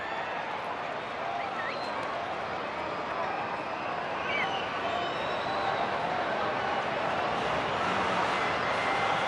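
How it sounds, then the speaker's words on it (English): Steady roar of a baseball stadium crowd cheering through a full count in the sixth inning of a Rangers vs Angels game, a broad continuous wash of voices that swells slightly toward the end. "Crowd imploring Drury and the Angels here in the 6th"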